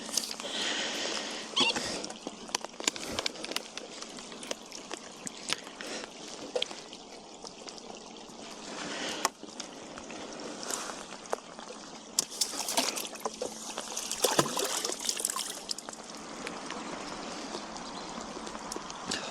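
Heavy rain pours down at Glebe Fishery during a live fishing match. It makes a steady, dense hiss with irregular patter and drips that runs without a break, and no one speaks.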